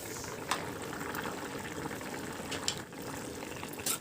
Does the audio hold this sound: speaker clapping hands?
no